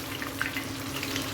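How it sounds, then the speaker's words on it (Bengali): Cubes of paneer fry in hot white oil, a soft, steady sizzle with light popping that holds evenly for a short moment. "এখন আমি আস্তে আস্তে করে তেলের মধ্যে পনিরগুলো দিয়ে ফ্রাই করে নিব"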